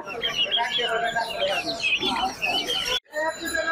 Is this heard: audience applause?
no